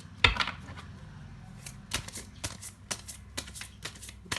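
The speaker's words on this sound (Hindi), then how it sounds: "मैं कार्ड को शफल कर रही हूँ।" Tarot cards shuffled by hand, with soft, quick riffling clicks and light slaps up close, a sharper snap near the start, and no voice over them.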